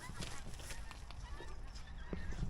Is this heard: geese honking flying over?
yes